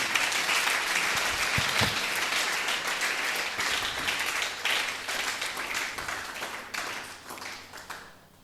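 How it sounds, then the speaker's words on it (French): A church congregation applauds warmly, steady clapping from many hands filling the space and gradually fading toward the end. "nous acclamons pour la parole de Dieu"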